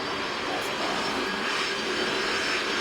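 An airliner in the Roblox flight game PTFS overruns the runway, heard as a steady loud broadband jet engine roar that holds constant throughout, with no talking.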